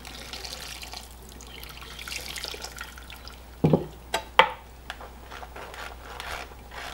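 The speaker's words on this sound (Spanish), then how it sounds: "Le voy a agregar agua, pero es caliente." Hot water pours into strained chile for pozole in a home kitchen, a soft, steady wash of liquid punctuated by a few sharp clinks of a utensil against the pot.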